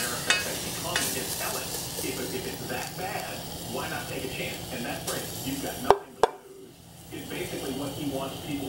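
Textured vegetable protein sautés in a pan with a soft, uneven sizzle and stirring scrapes. A sharp metal clatter breaks in briefly and the frying then carries on, and a voice seems to murmur faintly underneath.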